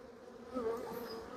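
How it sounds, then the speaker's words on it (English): Honey bees swarm around an opened hive during a colony check, a steady agitated buzz that rises slightly in loudness partway through, close to the microphone with no talking. "So these bees are really not happy with me, as you can tell"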